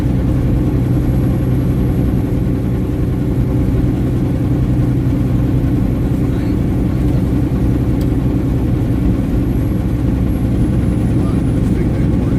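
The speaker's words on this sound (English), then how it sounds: "Still sounds like a nice truck." A semi truck's engine runs steadily at idle, a dense, continuous low-mid rumble that stays loud and unchanging throughout, with no clear voices on top.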